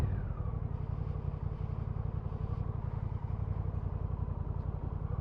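Honda CMX1100 Rebel motorcycle engine running steadily while riding, a continuous low throbbing drone with a fast pulsing beat that holds even and fairly quiet throughout, with no voices.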